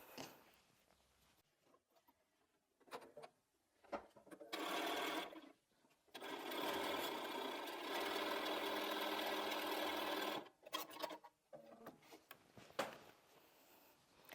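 A sewing machine runs in two bursts of rapid stitching, one short and one longer and steady, with quiet handling noises between the runs.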